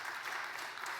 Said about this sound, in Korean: 우리 천대길 집사 나올 때 큰 박수로 우리 환영하도록 하겠습니다.